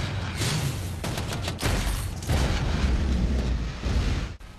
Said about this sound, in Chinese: 配合机枪、坦克和榴弹炮等重型武器制造出的密集爆炸